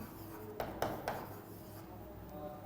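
Pen scratching out handwritten notes, a few short quick strokes up close, then a quieter steady rub of writing under faint room hiss.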